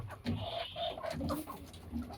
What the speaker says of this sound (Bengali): দেখেন এখানে হচ্ছে সব ফাওয়ামি মুরগি